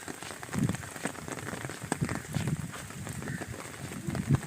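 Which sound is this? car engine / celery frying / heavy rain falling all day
heavy rain falling all day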